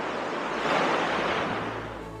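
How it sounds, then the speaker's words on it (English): Sea waves roll onto a New Zealand beach in a continuous broad wash of surf, with a gentle swell in loudness and light wind noise, no voices. "We sat here and listened to the sounds of the sea."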